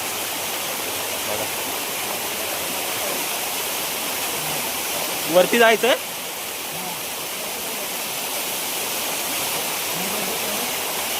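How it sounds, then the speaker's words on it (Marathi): A waterfall in the Konkan countryside at night roars as a steady, broadband rush of falling water through the whole stretch, with a brief burst of a voice speaking over it midway. "बघा धबधबा"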